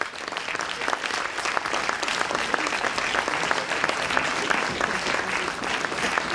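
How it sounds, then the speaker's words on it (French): Conference audience applause: dense, sustained clapping from a large crowd fills the room at an even level from start to finish, with no speech on top. "Je vous demande de les applaudir."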